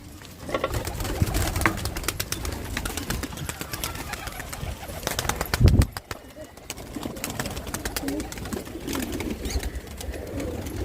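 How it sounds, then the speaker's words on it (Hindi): Pigeons coo repeatedly at close range amid rustling and shuffling, with a brief louder knock partway through and steady background noise. "हम लोग अपने कबूतरों को निकालते हैं बाहर"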